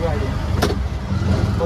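A car rolling slowly into a Kedarnath temple area, its low engine rumble steady throughout with a brief brighter burst midway, while people talk nearby.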